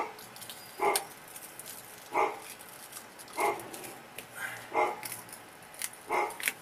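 A dog barks in short single woofs, about six spaced evenly over several seconds, fairly close and moderately loud, with a faint background hiss between barks and no talking.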